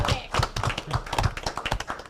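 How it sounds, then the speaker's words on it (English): Scattered hands clap in a small room for a newly named chairman at an Ozark city council meeting, a loose, uneven patter of claps at close range with no talking over it. "Y'all better clap, all I gotta say,"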